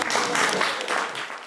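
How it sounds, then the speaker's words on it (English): A cozy crowd at a storytelling event in West Asheville applauds, a steady wash of clapping lasting the whole brief moment at moderate loudness with no talk over it. "Give yourselves all a round of applause."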